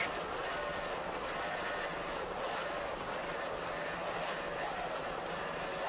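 Racing powerboats with 2.5 EFI outboard engines roar in a continuous, dense drone, loud and unbroken throughout with no talk.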